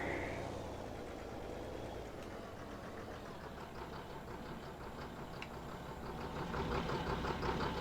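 Tractor engine idling steadily in Farming Simulator 19, a continuous low rumble that holds even throughout and swells slightly louder near the end, with no voices.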